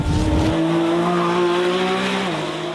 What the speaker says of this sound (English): take you on board the Lamborghini Revuelto, the first V12 plug-in hybrid